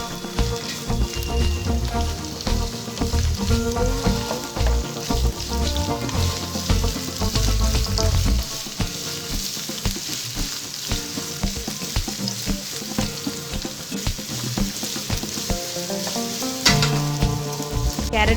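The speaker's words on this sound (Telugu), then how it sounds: "ఆలుగడ్డ ముక్కలు ఫ్రై అయిన తర్వాత క్యారెట్ ముక్కలు వేసుకోవాలి." Potato and carrot pieces fry in a pan with a loud, steady sizzle and crackle, broken by stirring clatter and a sharper clank near the end, close up and without talk.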